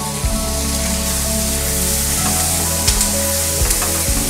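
Tomatoes and dried red chillies frying on medium heat for dhaba-style paneer butter masala, a steady close sizzle throughout with a few soft stirring bumps and no voices.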